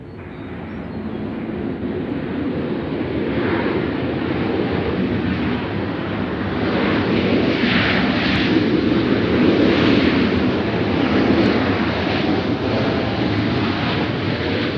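A Southwest airliner takes off at Nashville International Airport, a steady loud jet roar swelling slightly and holding throughout with a broad rumble, no voices over it.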